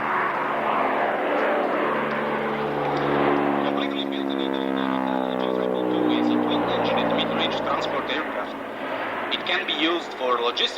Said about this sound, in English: The leading aircraft, Hawk Hunter. The second aircraft, furthest away from us in Echelon, is a single-seat vampire.